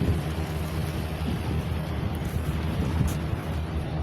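Fishing trawlers pass along a river in the Sundarbans, giving a steady low rumble of engines with a broad wash of water and wind noise throughout, moderately loud and without talk.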